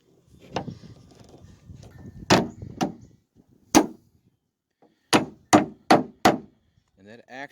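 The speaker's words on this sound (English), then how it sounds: "when I use the hammer, actually knocked the retainer clip into position" A hammer knocks a trunk strut retainer clip into position on a Chevy Malibu, giving sharp, close metallic strikes: a few scattered blows, then a quick run of four evenly spaced hits near the end.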